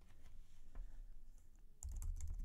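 Someone types on a computer keyboard at a Mac. The keystrokes are quiet and irregular, with a denser, louder burst of clicks near the end and no voices.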